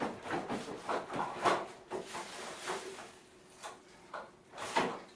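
Kitchen drawer slid open, a series of short scraping and knocking bursts spaced across a few seconds, fairly close and quiet, with no talk over it.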